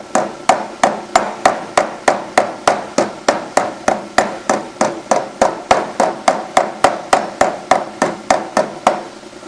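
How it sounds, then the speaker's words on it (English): Hammer striking sheet metal held against a dolly in a metal fabrication shop, about thirty sharp, evenly spaced ringing blows in a steady rhythm, close and loud, with no talking. "Go back to this hammer."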